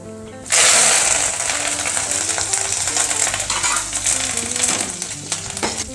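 Curry leaves drop into hot oil with fried salted dried meat and burst into a loud, sudden sizzle. The sizzle settles into a steady crackling fry with occasional stirring scrapes.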